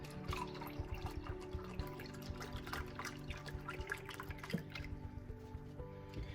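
Chicken stock trickles and splashes steadily into a pot, a soft continuous pour with small drips, faint and close over a low background hum.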